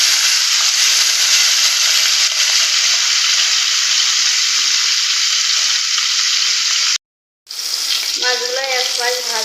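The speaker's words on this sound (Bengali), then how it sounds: "তেল গরম হয়ে গেছে, মাছগুলো এবার ভেজে নেব।" Taki fish fry in hot oil, giving a loud, continuous sizzling hiss that cuts out briefly near the end and then returns with bubbling spatter.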